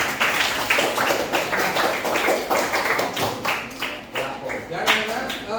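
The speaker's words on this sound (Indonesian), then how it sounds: "Tepuk tangan untuk kita semua." A classroom of children claps hands together in a quick, uneven burst of claps that runs for several seconds, with some voices mixed in.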